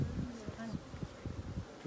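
Honey bees buzz close by in a steady hum during a beehive inspection, quiet and brief.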